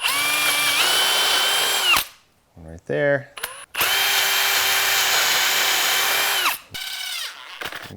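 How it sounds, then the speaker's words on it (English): A power drill whines loudly in two long bursts with a short gap, pre-drilling wood for screws, winding down between them; a person says a few words in the pause. "I attach my PT right here, but I don't want to split it when I put some screws in, so I'm going to pre-drill it"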